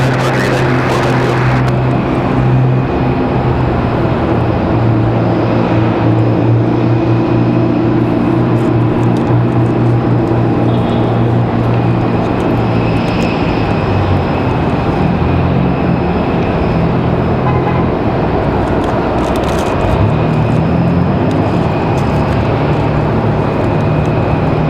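An aircraft at Raleigh Durham International Airport is heard as a broad, steady roar of jet engine noise that holds loud and constant throughout, with a faint distant whine riding on top.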